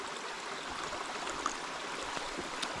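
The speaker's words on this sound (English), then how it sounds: "and then I got this little brook here." A small brook flows through the wilderness, giving a steady, even wash of running water that stays close and constant throughout with no talk.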